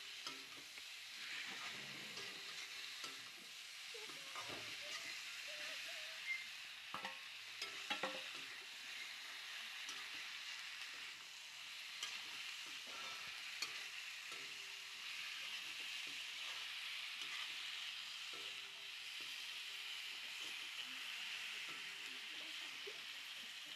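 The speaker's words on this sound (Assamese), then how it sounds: "লোকেল মাংসখিনি ভাজি ল'ম।" Local chicken meat frying with spices in a pan, a continuous moderate sizzle with intermittent scraping and clinking from stirring, no voices.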